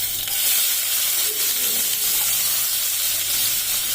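Chopped onion goes into hot oil with a bay leaf and fries in a pan for a jackfruit and prawn curry, giving a steady, close sizzling hiss that stays even throughout with no talking.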